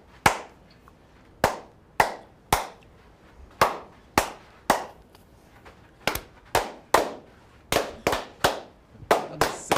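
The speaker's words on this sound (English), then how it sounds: "A synchronous clap." A group claps in unison, each clap a single sharp, loud crack, spaced irregularly and coming faster toward the end.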